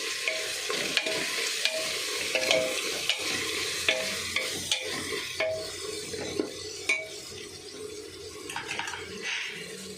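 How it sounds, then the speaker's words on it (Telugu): Mutton curry being stirred in a pan with oil rising, a spoon scraping and clinking in uneven strokes over a low sizzle, close and moderately loud, no voices. "నేను ఒక్కసారి ఇలా కలిపేసి"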